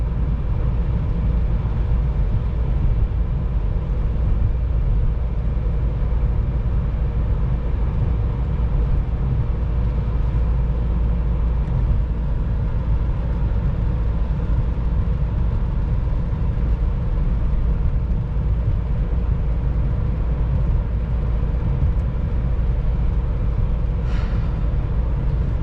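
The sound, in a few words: car road noise from summer tires hardened by cold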